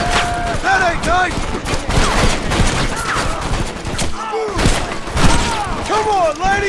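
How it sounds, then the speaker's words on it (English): Rapid volleys of gunfire in the Western shooter game Red Dead Redemption, dense overlapping shots and ricochets throughout, with someone shouting over the shooting. "Covering fire!"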